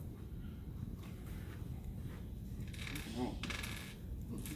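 Plastic dice are handled and passed around a lecture room, giving a faint, brief clatter and rattle midway through against low room noise.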